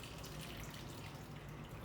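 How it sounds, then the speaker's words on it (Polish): Aquarium water siphoning by gravity through a hose into a bucket, a faint, continuous trickling and gurgling flow with no talking. "Woda, która jest w wężyku, automatycznie zaciąga grawitacyjnie i nie muszę wężyka zasysać."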